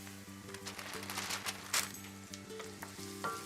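Onions sizzle and fry in a pan as Sicilian oregano is added, a steady crackling sizzle with light stirring scrapes, moderately close and without talk.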